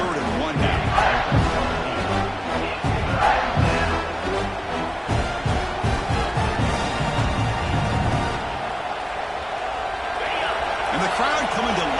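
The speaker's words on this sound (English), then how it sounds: "And the crowd coming to life here, trying to help this defense down in the red zone." Stadium crowd at a Clemson football game swells into a steady cheering roar while the defense is in the red zone, with a commentator talking over it throughout.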